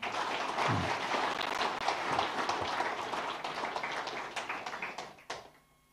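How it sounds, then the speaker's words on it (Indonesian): Applause from an audience at a National Mandate Party (PAN) event, a dense wash of many hands clapping that holds steady and loud for about five seconds before quickly fading out. "sekarang boleh tepuk tangan yang meriah"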